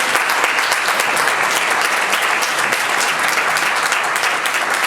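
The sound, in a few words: audience applause at a conference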